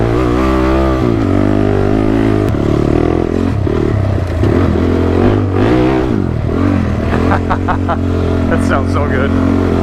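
A TRX engine revs with a freshly fitted exhaust, a loud, steady low rumble with rising and falling throttle swells and some clatter throughout, close by.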